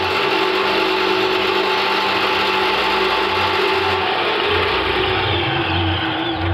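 A corn thresher machine running loud and close, a dense continuous mechanical roar with a steady engine drone and rhythmic low pulsing throughout.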